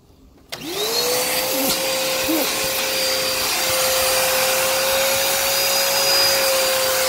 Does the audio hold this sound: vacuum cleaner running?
yes